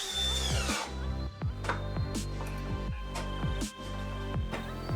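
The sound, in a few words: driving 6×70 screws into workbench jaw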